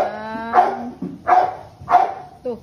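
A dog barks three times in spaced, loud yelps, preceded by a whining, whimpering tone and ending with a shorter fourth bark.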